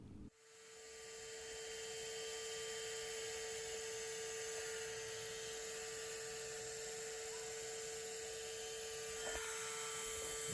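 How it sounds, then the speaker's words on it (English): A vacuum hose runs steadily with a constant whine and hum while pulling feral honeybees out of a tree during a snowy winter removal, the suction drone loud and unbroken throughout. "you'll see a few more get sucked up and come down the hose"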